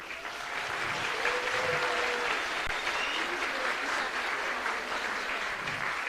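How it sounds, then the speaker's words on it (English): An audience at a Formula SAE award ceremony applauds, a dense, sustained round of many hands clapping at a steady level throughout, with a faint murmur of voices beneath. "So I think you should all give yourselves a big round of applause."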